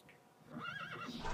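A single clear horse whinny from the Minecraft Mo' Creatures mod, a short rising-and-falling neigh heard alone, with faint hoof clip-clop around it.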